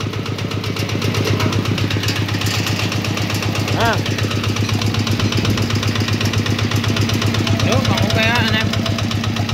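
A Honda UA10 motorcycle with a fuel-injected, all-original engine idles steadily up close, a continuous low rhythmic chug running throughout while someone talks over it.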